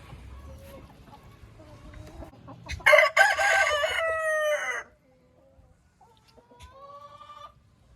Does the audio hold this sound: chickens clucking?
yes